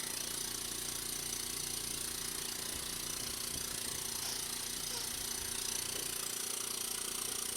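A small air compressor for an airbrush runs continuously with an even, faint mechanical hum and rattle, no pauses, steady from start to finish.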